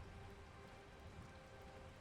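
Steady rain falls outdoors in an even, unbroken patter, a soft wash of drops holding a constant level from start to finish, with no voices.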